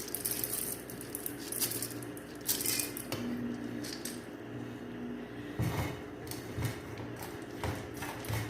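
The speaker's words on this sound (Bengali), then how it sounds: "তারপর ডাল এবং চালগুলো ঢেলে দিবেন" Dry lentils and rice pour into a cooking pot for khapsa, making quiet rattling and clattering grains with small metallic clinks and a few denser bursts of falling pieces, close up and with no one speaking.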